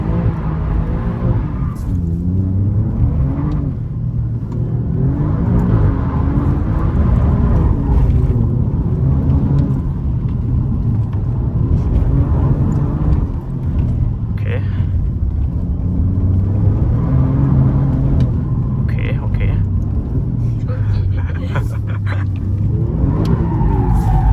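Alfa Romeo Giulia QV engine loud and steady through tight corners, a continuous close rumble with pitch rising and falling as the car powers out of each bend, no talking over it.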